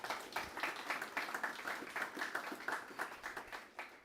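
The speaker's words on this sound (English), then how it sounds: "Big round of applause, please, for Sarah." A small crowd at the Cambooya Australia Day Awards in Toowoomba claps faintly and somewhat distantly, the individual claps forming a light, uneven rhythm that holds steady for a few seconds with no talking.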